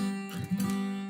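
A muted acoustic guitar chord fretted with the flat fingerprint area of the fingers instead of the fingertips, giving a dull, choked strum that rings briefly at moderate volume with no talking.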